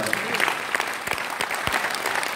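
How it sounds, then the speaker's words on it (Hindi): Audience applause at an Indian MLM business presentation: a dense, continuous patter of many hands clapping at moderate loudness for a couple of seconds, with a few sharper individual claps standing out. "तालियां बजाना करना सकता है।"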